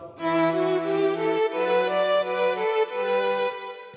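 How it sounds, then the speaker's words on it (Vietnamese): A keyboard violin voice plays a smooth, sustained melody over a held low note, bright and full, notes gliding one into the next. "Tiếp theo đó là tiếng violon."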